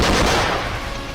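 Gunfire in war footage from Bakhmut, Ukraine, heard as a loud, dense burst of shots that trails off into rumbling echoes.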